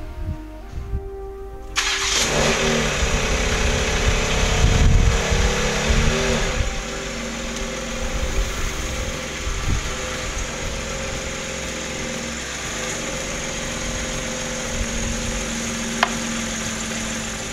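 BMW X3M Competition starting up and rolling onto ramps for an oil change, a sharp engine catch followed by revving, then a steady idle hum that settles for the rest, close and loud.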